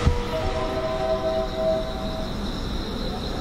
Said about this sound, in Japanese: 1番乗り場、列車が通過しました。